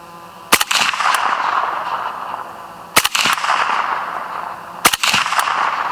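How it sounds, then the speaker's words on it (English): A suppressed AK rifle fires three sharp, loud shots at a target 50 yards out on an outdoor range. The shots are spaced a couple of seconds apart, and each crack is followed by a short echoing tail. "So as you can see, we're shooting a little bit low at 50 yards, aiming at the belt buckle."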